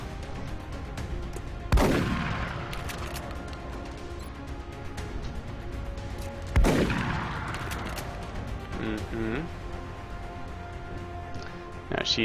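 Two heavy shotgun blasts in XCOM: Long War, a few seconds apart, each a loud boom with a ringing tail over quiet game ambience.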